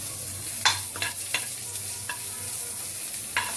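Sliced onions frying lightly in a little oil in a pan: a steady soft sizzle broken by several sharp scraping stir strokes at uneven intervals, close up with no talking.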